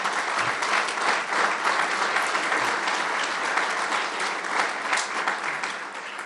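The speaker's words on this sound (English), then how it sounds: "Give them a big round of applause." A big crowd gives a sustained round of applause for the mayor and county executive at a public announcement of a highway ramp linking the Peace Bridge to northbound I-190. The clapping is dense, steady and loud throughout.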